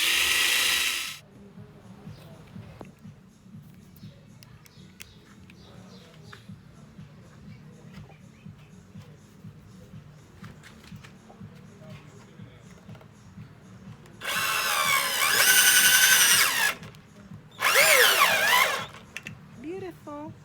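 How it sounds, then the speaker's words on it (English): A power drill pre-drilling holes in pallet wood, with two bright bursts of whirring, one about two seconds long and one shorter, over a low mechanical hum, with another brief burst right at the start. "I'm going to pre-drill"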